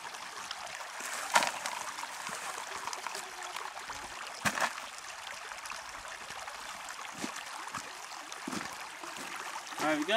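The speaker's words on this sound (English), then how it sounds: "Brought it down to the creek where there's some water." Creek water flows and trickles softly at a gold-panning spot, a faint, steady burble with a few small splashes and knocks, under occasional quiet talk.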